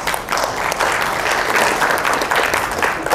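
An audience at a university business talk breaks into applause: steady, dense clapping from many hands that fills the room evenly for a few seconds.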